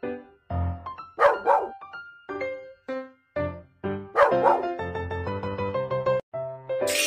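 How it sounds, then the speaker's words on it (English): Cartoon puppy barking in a run of short yips and barks, loud and close, set against light background music, with no voices. "Puppy."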